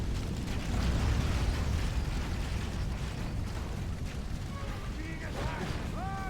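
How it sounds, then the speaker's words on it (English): Artillery fire and impacts on massed troops in a battle strategy game, heavy rumbling booms and bursts running continuously beneath a dense clamor, with a few whistling tones near the end. "getting some good hits with the artillery there"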